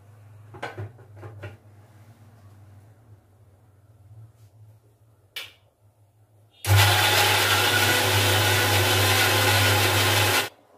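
A mixer grinder whirs loudly for several seconds, grinding ginger and tomato into a paste, with a steady electric hum starting abruptly after quieter kitchen clatter.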